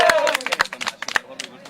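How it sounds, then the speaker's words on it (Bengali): Crowd clapping at a busy cattle market ahead of the Eid sacrifice, with scattered sharp hand claps standing out over dense chatter and a speaking voice. "সবাই একটা জোরে হাততালি হয়ে যাক"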